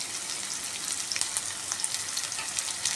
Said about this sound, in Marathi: आता मी याच्यात टाकते राय आणि जिरं। हे बघा, आणि लगेच त्याच्याबरोबरच टाकते मी कांदा